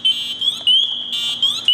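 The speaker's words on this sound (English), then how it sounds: "Did you hear that bell go off?" The audio alarm bell on an MSA SCBA air pack sounds loud and close, a shrill electronic tone that pulses in short repeated bursts.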